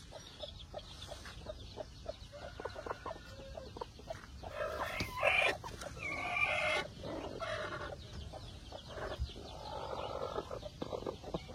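Peruvidai chickens cluck steadily on a farm, several hens and roosters close by in a continuous, busy chorus of short calls and squawks, with a brief louder burst of cackling partway through.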